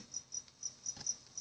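An indoor cricket chirps in short, high, bright pulses repeating every few tenths of a second over a quiet room background, with no voices.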